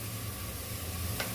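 Spices and chilli powder sizzle in a hot pan while ridge gourd gravy is sautéed, giving a steady close frying hiss with a brief stirring scrape near the end and no talking.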